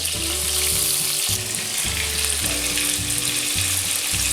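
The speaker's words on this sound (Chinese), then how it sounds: "热锅下冷油，把虾放进去炸一下，开中小火把虾给炸至8、9成熟" Shrimp fry in oil in a hot wok over medium-low heat, giving a loud, continuous sizzle and crackle with occasional clinks and scrapes of utensils, and no talking.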